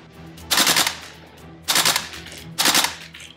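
An airsoft AK rifle firing biodegradable BBs in three loud, close full-auto bursts, each a rapid rattling string of shots about half a second long, separated by short pauses.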